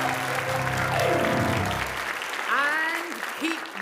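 Audience applause greets an improv cast taking the stage, a steady wash of clapping that swells and holds, with a few high whistles rising near the end.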